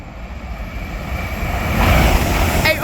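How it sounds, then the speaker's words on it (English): An LNER Class 801 electric train passes through Hatfield station on the East Coast Main Line, a broad rushing roar that swells louder as it comes close, with a short high metallic squeal near the end. "coming through now we have another LNER Class 801 set"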